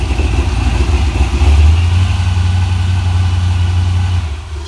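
A 1965 Comet fitted with a C4 transmission shift kit runs loudly up close, its engine holding a steady, throaty low idle that is hard to keep running, before easing off at the end.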